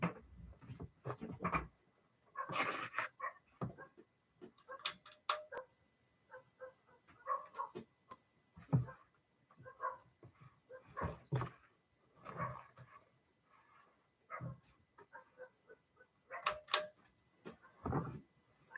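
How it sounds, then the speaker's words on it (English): Dogs bark outdoors at night in scattered, irregular bursts, with sharp yips and barks rising over a faint background and some quieter whimpering between them; the sound is soft and distant overall. "See what them dogs is barking at"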